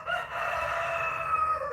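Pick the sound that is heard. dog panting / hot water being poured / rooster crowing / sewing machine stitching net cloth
rooster crowing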